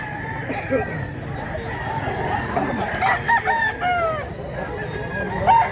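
A rooster crows close by among clucking fowl, with murmured talk in the background.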